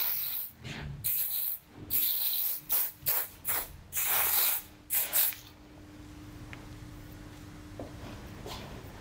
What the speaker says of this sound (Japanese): 手出しのスプレーしますね。